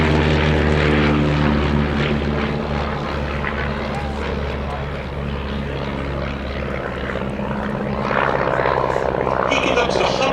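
A de Havilland Chipmunk propeller plane at the Shuttleworth air show drones steadily with a deep, continuous engine hum that swells slightly toward the end, while speech runs faintly underneath.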